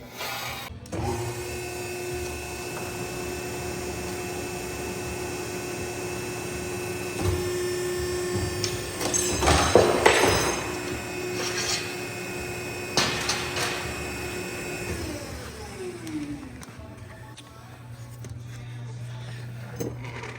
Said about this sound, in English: So we'll shear this out and then start breaking some tabs.